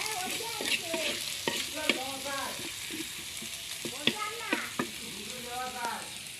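Chicken meat frying in a pan with onion, garlic and ginger, the quiet sizzle broken by repeated scrapes and stirs of a spatula; a voice talks faintly in the background at moments.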